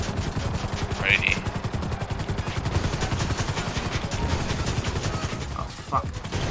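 A helicopter in the video game Grand Theft Auto 5 gives a loud, rapid rotor chop that throbs steadily throughout, with brief high clanking sounds.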